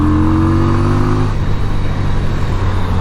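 A 1988 Yamaha Virago 250 motorcycle engine runs steadily on the road with a low, continuous drone, its pitch climbing slightly in the first second before settling into an even rumble mixed with wind.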